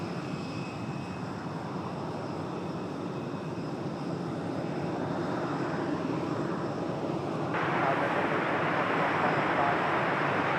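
An American Airlines Airbus A321 taking off from Raleigh-Durham International Airport, a steady broadband jet engine roar heard from a distance that grows louder near the end, with no talk over it.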